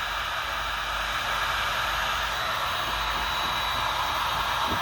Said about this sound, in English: a heat gun is what you want to use